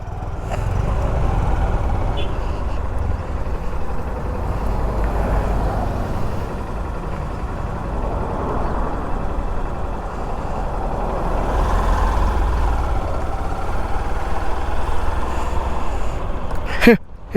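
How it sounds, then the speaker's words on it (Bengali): Heavy truck traffic on the Zoji La pass road: a loud, continuous rumble of truck and vehicle engines that swells and fades over the whole stretch, with a sharp clatter right at the end. "রাস্তায় প্রচণ্ড ট্রাক ফাক এসব যাচ্ছে"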